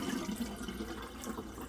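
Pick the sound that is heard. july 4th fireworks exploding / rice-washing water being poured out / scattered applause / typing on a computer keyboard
rice-washing water being poured out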